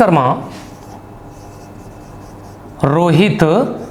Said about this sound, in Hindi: अब इसके बाद में दूसरा क्वेश्चन आपके सामने लिखता हूं